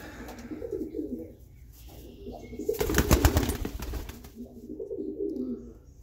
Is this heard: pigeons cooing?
yes